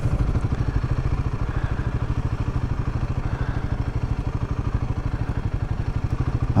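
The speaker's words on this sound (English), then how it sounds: "And there's a motorbike." A motor scooter engine near Goole's Coffee Dock runs with a fast, even putter that stays steady and fairly close throughout, with no voices.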